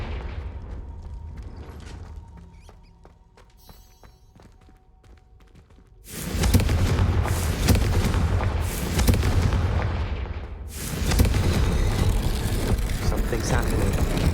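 Confringo blast spell in the Hogwarts Legacy video game, a loud booming explosion that erupts suddenly and rumbles on, followed by a second heavy blast of roaring noise.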